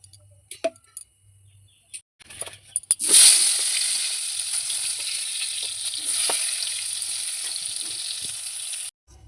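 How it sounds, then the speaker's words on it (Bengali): Eggplant pieces hit hot oil in a home kitchen and set off a sudden bright sizzle that carries on steadily and loud for several seconds, after a few quiet clicks and clatters, then stops abruptly. "তো আমি প্রথমে বেগুনটাকে ভেজে নিই"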